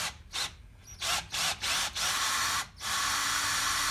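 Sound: 6.5mm drill drilling a hole, slowed down

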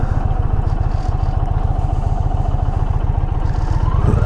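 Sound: Indian Challenger Limited motorcycle engine revving

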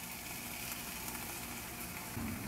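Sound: bacon sizzling in a hot pan

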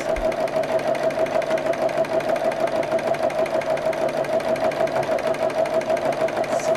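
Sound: sewing machine doing a running stitch on a bug bag

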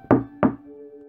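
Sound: knocking on a door

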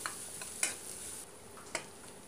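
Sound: garlic stir-frying in oil

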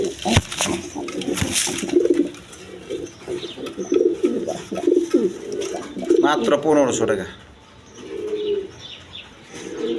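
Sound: Lotan pigeons cooing

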